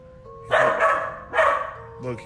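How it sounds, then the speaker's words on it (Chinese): A dog barks loudly nearby, three sharp barks in quick succession, with a faint high hum underneath. "他的狗狗似乎出现了些异常，他一直朝向门口位置望去，并对着这里大叫"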